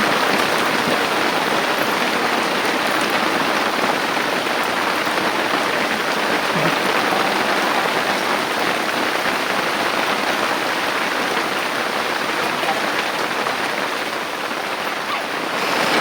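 Heavy rain falls suddenly at night, a dense, steady roar of drops on surfaces that holds without a break.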